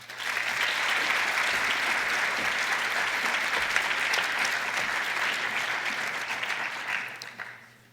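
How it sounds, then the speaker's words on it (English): An audience at a university Martin Luther King Jr. convocation gives sustained applause for winners and participants. The dense, even clapping fills the room and then tapers off at the end. "Let's give all our winners and participants a round of applause."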